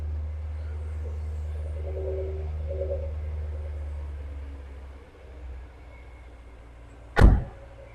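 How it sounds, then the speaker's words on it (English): The passenger door of a 1999 Jaguar XKR coupe slams shut with a single sharp thud near the end, following a low, steady rumble and faint movement. "I've got to close the passenger door."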